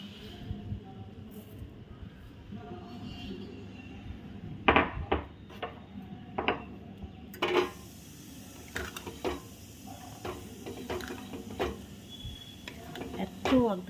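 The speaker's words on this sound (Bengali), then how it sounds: "তো এবারে আমি এর মধ্যে মিশিয়ে দেবো এই যে মশলাটা ভেজে রেখেছি" Fried spices being stirred into a pot of sweet mango pickle, with scattered scraping and clinking knocks of a spoon against the vessel over a soft background hum.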